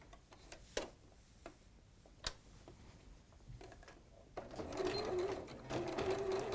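A domestic sewing machine stitching two fabric pieces together with a quarter-inch seam, its motor whirring up steadily in the last couple of seconds after a few soft ticks and handling clicks.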